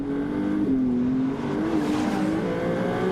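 A Ferrari Challenge race car at Balaton downshifting through the gears, heard as a loud, steady engine drone with shifting pitch and surges, close and continuous throughout.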